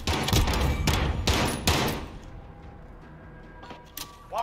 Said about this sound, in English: suck at shooting these submachine guns